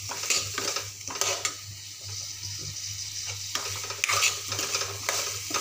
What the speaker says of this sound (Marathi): याला छान असं मस्त खालवर होतपर्यंत असं परतून घेते